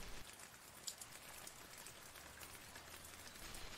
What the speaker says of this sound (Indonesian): Karena dari jam 10 pagi tadi tuh hujan udah gak mau berhenti gitu sampai sekarang.